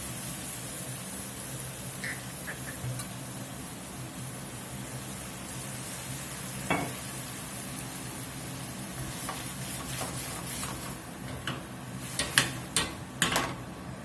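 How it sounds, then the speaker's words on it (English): Bourbon cooks off in a hot pan after Worcestershire goes in for a pork chop apple whisky sauce, giving a faint, steady sizzling hiss with a few light clinks and pops toward the end. "We're going to drop this bourbon in here. Let it cook off."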